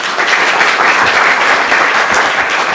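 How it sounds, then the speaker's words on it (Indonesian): A studio audience at a televised talk show applauds steadily and loudly, dense clapping that holds at an even level throughout without pause. "Boleh kita minta tepuk tangannya sekali lagi?"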